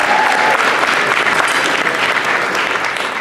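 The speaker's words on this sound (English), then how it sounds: "please let's give him a round of applause" Sustained audience applause for an honoree at an evening awards event, dense steady clapping from a large crowd, loud and continuous throughout with no talk over it.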